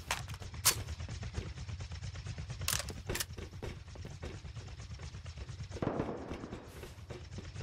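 Gunfire in Rust on a large oil rig comes as sharp, close shots scattered in quick bursts across the clip, with mechanical clicking and ratcheting between them and no talk.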